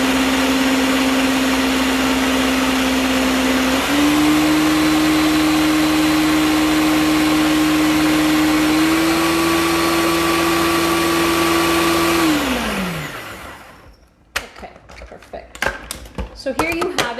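A blender runs at high steady speed pureeing a tomato mixture for chicken curry (kuku paka), its motor whine holding loud and continuous, stepping up in pitch slightly before winding down and stopping, followed by a few light clatters.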